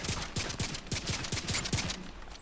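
Rapid automatic gunfire from a weapon in The Division 2 rings out in a steady burst of about a dozen close, evenly spaced shots, loud and alone.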